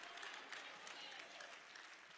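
Church congregation clapping at a Tuesday night service, a dense steady wash of many hands at moderate to faint level, continuing without pause for a couple of seconds.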